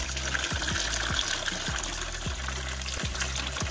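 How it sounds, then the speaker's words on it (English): Coolant pours steadily into the engine of a 2011 Kia Soul 2.0L during a timing belt and water pump job, a continuous close trickle with a few soft low knocks and thumps underneath. "We're pouring coolant already."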